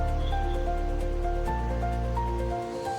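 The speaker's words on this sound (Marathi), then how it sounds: "पाण्याला आपले छान असे उकळी आलेले आहे।" Water boiling in a pot with papaya pieces for homemade tutti-frutti makes a steady, close bubbling and hissing rush, with a low hum underneath that drops away near the end.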